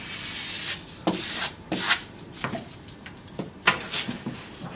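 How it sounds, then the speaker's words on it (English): Rivet brush rubbing adhesive film onto a slightly textured painted wall, close, dry scrubbing strokes in an irregular series of short bursts, with no talk. "And now use my rivet brush just to make sure that that film is very well worked into that slight texture in the paint."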